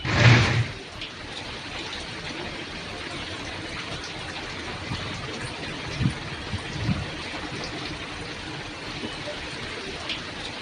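Heavy rain drums steadily on and leaks into a government bus, a dense continuous hiss of falling water with occasional louder thumps and splashes.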